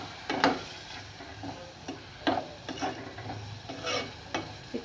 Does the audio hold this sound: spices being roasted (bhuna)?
yes